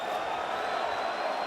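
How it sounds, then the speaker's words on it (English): Dublin crowd at an MMA fight for Yoel Romero, heard as a steady, dense roar of cheering with no clear breaks. "Noise of the Dublin crowd for Romero."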